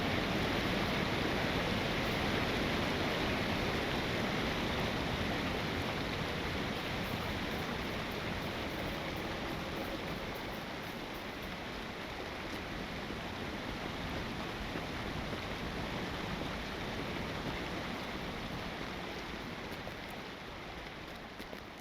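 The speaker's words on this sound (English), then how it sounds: "That is a big old waterfall." Rushing water from a large waterfall in The Lord of the Rings Online pours as a loud, unbroken roar that eases slightly in volume over time, heard alone without speech.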